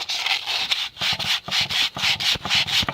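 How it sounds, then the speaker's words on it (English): Rust is sanded off the release bearing slide area during a workhorse repair, heard as repeated rhythmic back-and-forth rubbing strokes, close and steady, about six passes with brief pauses between them. "So go ahead and sand that one down a little bit too."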